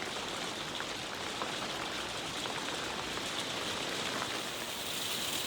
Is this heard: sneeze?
no